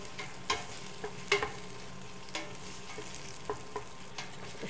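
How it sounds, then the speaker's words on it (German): Sliced asparagus frying in a pan is stirred, giving a low steady sizzle broken by several sharp scraping clicks of the utensil at irregular moments, with no voices. "Den geben wir auch dazu. So, kurz wieder umrühren."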